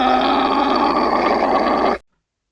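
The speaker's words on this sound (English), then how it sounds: "Now let's listen to the llama sound." A llama gives a single sustained, throaty grunting call lasting about two seconds, loud and close, then cuts off into silence.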